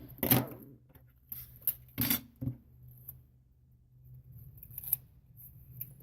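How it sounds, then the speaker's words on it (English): Sharp scissor snips cutting a sheet of paper, a few crisp close clicks spaced irregularly with quiet rustling between them. "What you're going to do is you're going to cut it out that much."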